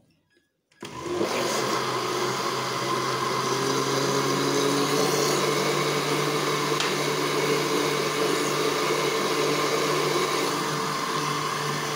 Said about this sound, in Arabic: نحطه فوق الخلاط بسرعة منخفضة طبعا